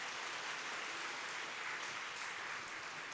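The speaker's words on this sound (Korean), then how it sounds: "또 귀한 말씀 증거해 주신 이기원 집화장님께도 감사의 박수 전해드리겠습니다" Congregation applause at a Shincheonji Church of Jesus Bible assembly in Seoul, a soft, even, continuous patter of many hands heard at a distance.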